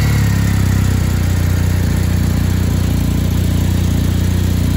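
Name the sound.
motorcycle engine starting and idling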